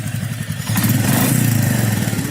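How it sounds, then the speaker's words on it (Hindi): A Royal Enfield Supernova or Honda CB350 motorcycle engine starts up and idles with a steady, loud, close exhaust thump that grows fuller after a moment and then holds even. "इंजन साउंड आप देख रहे हैं यहाँ पे"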